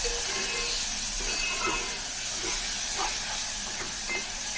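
Banana and barnyard millet roast in a pan for a fasting sheera, a steady, even hissing sizzle that stays constant and fairly loud throughout with faint scraping.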